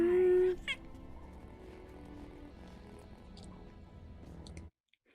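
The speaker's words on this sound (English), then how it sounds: "Oh, a Loth cat. So cute." A Loth cat from the Star Wars series Ahsoka gives a short meow near the start, followed by soft low rumbling background sound and a brief sharp noise at the very end.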